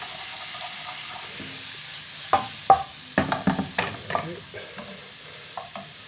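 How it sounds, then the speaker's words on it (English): Spice mix powder frying in oil for a biryani curry sauce, a steady sizzle broken by a run of sharp scraping stir strokes in the middle and later part, fairly close, with no talking. "Give that a good stir, fry up those spices, get rid of those unwanted raw"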